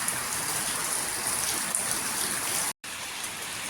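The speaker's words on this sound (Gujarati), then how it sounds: "વાટ જોઈને બેઠા કે વરસાદ રહી તો જાય, એટલી વારમાં વાસણ ભરાઈ ગયા" Heavy, steady rain pouring down with a dense hiss, continuous and close, broken only by a brief silent cut.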